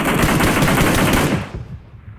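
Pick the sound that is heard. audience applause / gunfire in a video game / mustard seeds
gunfire in a video game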